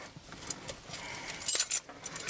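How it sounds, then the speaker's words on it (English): Keys for a 2011 Dodge Grand Caravan Express jangle in a series of close, bright metallic clinks, with louder bursts toward the end and no talking. "get the keys out from underneath the camera here."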